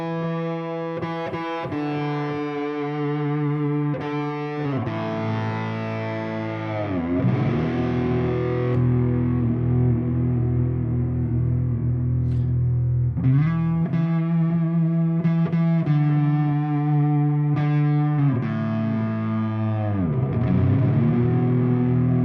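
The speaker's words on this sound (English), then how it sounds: "we'll start with the Strymon timeline, which is on ice, and this is the how it sounds." Electric guitar run through a Strymon TimeLine delay pedal on a pedalboard, sustained distorted notes and bends with repeating echoes trailing each phrase, loud and continuous with no talking.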